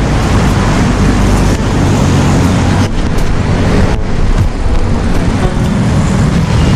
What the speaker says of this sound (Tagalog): Traffic mga Katropics, traffic.